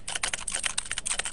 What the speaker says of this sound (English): You play on keyboard? Yeah, you wanna hear it?